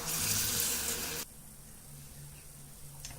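Tap water runs into a container to make pickling brine, a steady rushing pour for just over a second that cuts off abruptly, leaving only quiet room noise.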